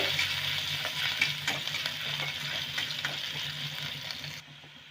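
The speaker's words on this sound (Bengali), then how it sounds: "নেড়ে নেব" Garlic, grated ginger and finely chopped green chilli are stirred in a sizzling frying pan for spring rolls, with continuous close scraping and frying hiss that cuts off abruptly near the end.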